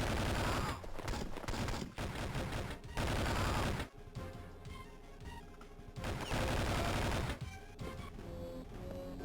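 Dense, continuous gunfire from the 2003 Game Boy Advance game 007: Nightfire, loud rapid shots in sustained bursts with brief pauses and crashing impacts, no talk.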